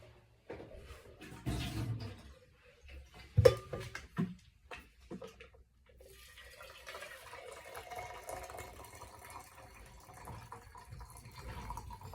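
Water poured from a tea kettle into a V60 pour-over filter at a home coffee setup, intermittent splashing and trickling early, then a steady soft stream running on, quiet and close, no talk.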